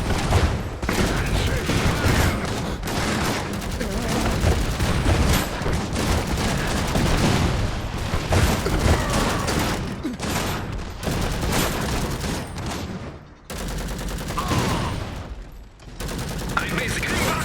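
Dense gunfire in the real-time strategy game Iron Harvest, with rapid machine-gun bursts and shotgun blasts against a mech forming a continuous loud barrage, and someone talking over it at times.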